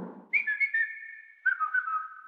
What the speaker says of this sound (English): How about a family whistle?